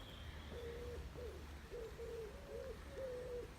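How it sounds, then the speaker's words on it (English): Several pigeons coo in soft, low, repeated phrases over a steady background hum, fairly close and gently rhythmic, in a churchyard in the Cotswolds. "I don't know if you can hear the pigeons"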